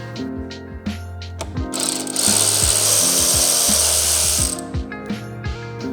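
A power tool, likely an impact or ratchet, runs in short mechanical bursts while 10mm head bolts are taken off a Lexus GX550 during a front bull bar install, with a steady rattling whir through the middle.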